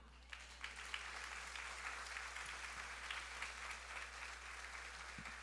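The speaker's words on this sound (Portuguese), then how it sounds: "Vá, aplauda o Senhor." A church congregation applauding, steady continuous clapping from many hands at a faint, distant level with a low background hum.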